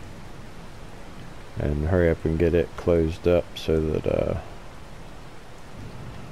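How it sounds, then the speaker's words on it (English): Rain in the video game Farming Simulator 22 makes a steady, even hiss throughout, with someone talking over it in several short bursts. "It's starting to rain."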